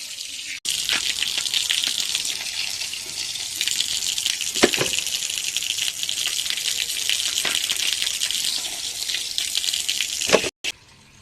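Palm fruits are washed by hand in running water, a continuous close splash and gush of water with occasional knocks of fruit, ending abruptly.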